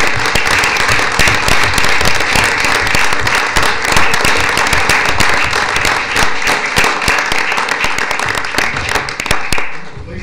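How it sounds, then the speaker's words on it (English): Sustained crowd applause for honoured former officials at a bicentennial proclamation ceremony, steady and dense throughout, tapering slightly at the end. "Let's have a round of applause for these great."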